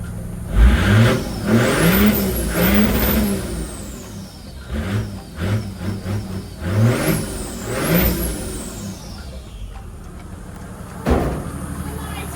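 A Toyota Land Cruiser 80 series engine, running again after an alternator change, revs up in several rising and falling bursts close by, with a high whine riding each rev and voices talking between them.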